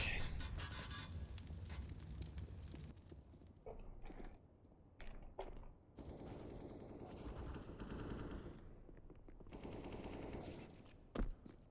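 Rapid automatic gunfire sprays in bursts in the Counter-Strike game on the Nuke map, loud and close, with short pauses between volleys and a sharp final shot near the end.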